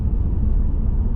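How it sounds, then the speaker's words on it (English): A car approaching along a forest service road near Sequim, Washington, comes through as a steady, loud low rumble with no break and no voices. "Oh, here comes a car."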